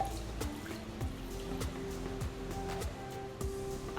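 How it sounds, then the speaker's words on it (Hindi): Water poured into a mixed vegetable pickle, a soft continuous trickle with a few light knocks and clinks of the container, close and quiet with no voices. "और अब हम ये पानी इसमें ऐड कर देंगे।"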